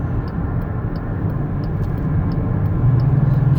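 A 2019 Chrysler Pacifica Touring L wheelchair van drives on the road, its engine and tyres giving a steady loud low rumble that swells a little toward the end as the throttle opens, with faint regular ticks above.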